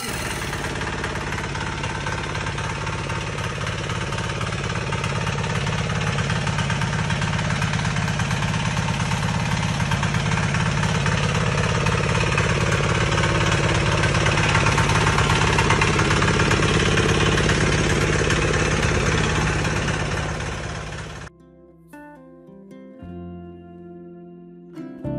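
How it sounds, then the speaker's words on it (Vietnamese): A diesel 173 rotary tiller engine with lithium battery electric start runs loud and close with a steady knocking idle for about twenty seconds, then cuts out abruptly, leaving quieter mechanical clicks. "Đây là máy xới đất động cơ dầu, đề nổ bằng pin lithium mới nhất trên thị trường."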